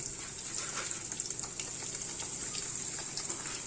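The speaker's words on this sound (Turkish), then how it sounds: "kızgın yağımıza mantımızı yolluyoruz" Manti dumplings fry in very hot oil, a steady bright sizzle and crackle that stays close and even with small bursts of spitting throughout.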